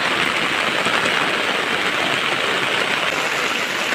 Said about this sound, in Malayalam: സൂപ്പർ മഴയാ അയ്യോ വഴി നടക്കാനേ പറ്റത്തില്ല